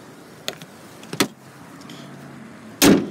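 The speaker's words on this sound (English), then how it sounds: "As we close the hood," The hood of a 2012 Suzuki Grand Vitara with a 2.4 four-cylinder slams shut with one loud, near thud near the end, after a couple of lighter metallic clicks and taps.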